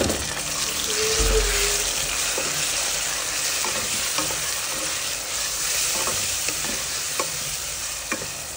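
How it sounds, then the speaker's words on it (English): Tomatoes cook with browned onions in a pan, giving a moderate, continuous sizzle. Occasional scraping and stirring clicks sit on top, with a faint watery splash near the start. "Once the onions brown a bit, I'm going to be adding our tomatoes, as you can see here, and then cook up our tomatoes."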